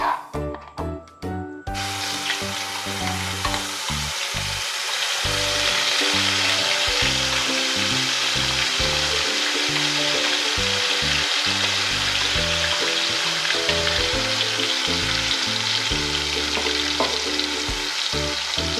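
Onion paste and spices hit hot oil with whole cumin for Bengali raw banana kofta, a loud continuous sizzle and hiss with stirring under a low rhythmic tonal hum.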